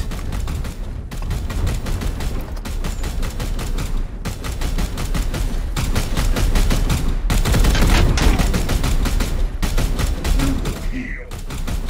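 Continuous heavy gunfire in Warhammer 40,000: Chaos Gate - Daemonhunters, loud rapid bursts and volleys running back to back with only brief gaps, close and dense throughout.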